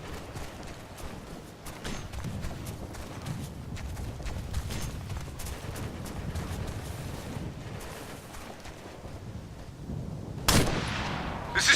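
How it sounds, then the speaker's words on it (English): Heavy gunfire in the military shooter game Operation Flashpoint: Red River, a dense continuous stream of shots and impacts for the full stretch, with a sharp louder burst near the end. "We're taking heavy fire."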